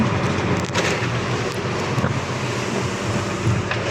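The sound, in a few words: strong sea waves and wind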